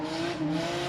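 A drifting Mazda FC RX-7 fitted with a 2JZ engine in place of its rotary, heard in a brief burst of steady, sustained engine roar and tire noise at moderate distance, with no talk.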